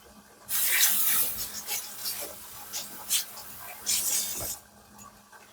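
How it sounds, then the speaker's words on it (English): Water runs into a can to rinse out leftover tomato from a homemade meat sauce, a splashy, hissing pour lasting a few seconds, with uneven surges before it stops. "A little bit of water in a can just to rinse that out"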